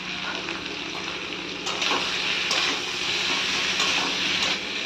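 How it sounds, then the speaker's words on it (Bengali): Potato and papad curry sautéing in a pan with salt and turmeric, a continuous close sizzle with brief scraping stirs of a spatula breaking through. "ভালো করে কষে নেবো"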